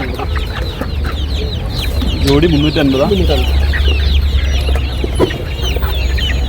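Chickens at a Kottakkal poultry market, including young Karinkozhi chicks, cluck and chirp in a busy close chorus with one louder cackling call, while someone talks over the constant market noise.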